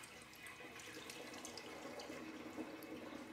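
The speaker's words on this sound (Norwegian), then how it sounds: "Her har jeg en blåsekanne. Og så heller jeg bare vann" Water pours from a watering can into the top of an Arida Wet U600 humidifier, a faint, steady trickling stream with small splashes throughout.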